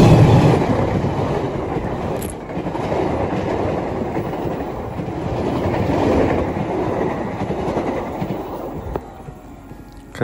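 A train rolls past close by near Yogyakarta station, with a loud, steady rumble and clickety-clack of wheels on rails lasting throughout, easing slightly toward the end.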